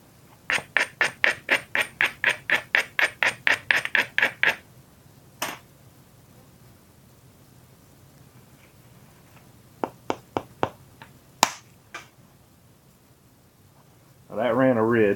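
Glass being flint knapped over a tarp, a hammer striking flakes off the piece: a rapid run of about fifteen sharp, evenly spaced clicks, then scattered single and clustered taps with quiet gaps and a rustle at the end.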